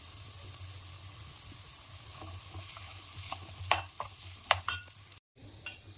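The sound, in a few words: stirring rice into fried tamarind leaf seasoning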